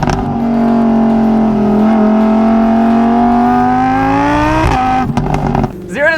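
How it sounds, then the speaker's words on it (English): A Lamborghini Huracan's naturally aspirated V10 exhaust held at a loud, steady high rev that climbs slowly, then snaps sharply with quick blips and crackles before fading, close to the car. "Let's get a little of that exhaust"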